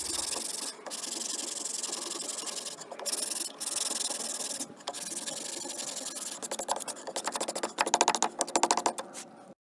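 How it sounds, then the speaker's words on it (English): Sandpaper rubbing back and forth along the edges of a small scrap wood piece, a steady raspy scratching in short strokes with brief pauses, close and alone. "grab your sandpaper and give those a little sand on the edges."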